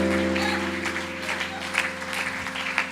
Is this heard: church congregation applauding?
yes